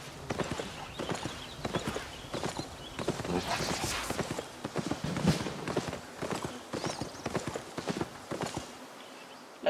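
Hooves of a mule clip-clopping steadily in the Albion Online video game, a brisk continuous run of close, evenly paced hoof hits over faint background ambience.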